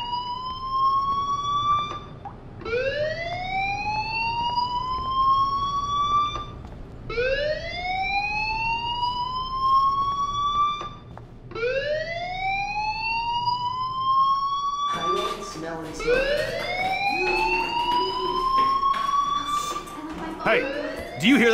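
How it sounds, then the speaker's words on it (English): A fire alarm in the video game Life is Strange sounds in repeated rising electronic whoops, about five sweeping wails spaced a few seconds apart, loud and close, with a voice speaking over the later ones. "Do you hear that fire alarm?"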